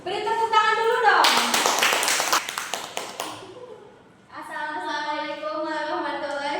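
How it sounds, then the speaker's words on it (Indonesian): Students in an Indonesian classroom give a burst of applause for a group about to present, a few seconds of dense clapping that fades out, with a teacher speaking before it and a student talking after. "Beri tepuk tangan dulu dong."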